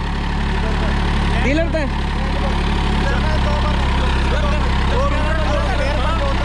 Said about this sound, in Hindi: अभी तो चल रहा है ट्रैक्टर